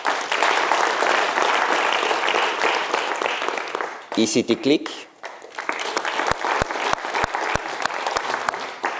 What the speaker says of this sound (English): So we had 6 premium sponsors this year, so please applaud them.